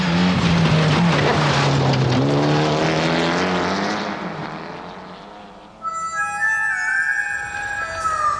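A four-wheel-drive rally car accelerates hard along a forest road, engine note climbing through the gears with loud, close, continuous roar that fades somewhat before a sharp burst of high-pitched whine and tire noise near the end.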